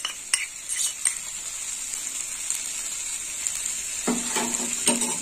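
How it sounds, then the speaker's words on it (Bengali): Poppy seed paste being stir-fried into an elephant foot yam curry in a pan: soft continuous sizzle with a spatula scraping and a few sharp clinks against the metal, close and without talk. "পোস্ত বাটা দেওয়ার পরে একটু কষিয়ে নেব"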